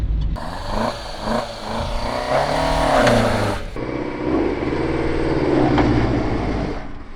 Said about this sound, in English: let's see if I can make the tire squeal a little bit